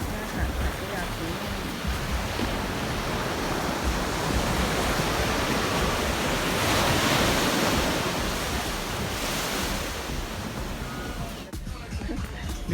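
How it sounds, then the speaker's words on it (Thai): Heavy waves break steadily on Saline Beach in Martinique, a loud, dense roar of surf with wind buffeting the microphone, rising to a peak midway and easing slightly near the end; no one speaks. "ทะเลแรงมากเลยวันนี้ค่ะ"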